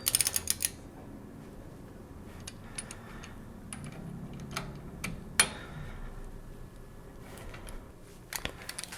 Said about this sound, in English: the last step is going to be to torque these down